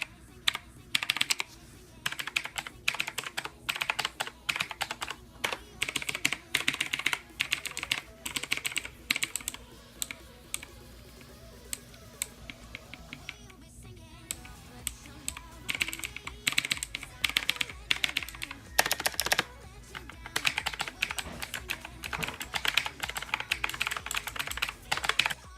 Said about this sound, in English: it is a mechanical switch RGB keyboard. The sound, for some people, is a deal breaker, so this is what it sounds like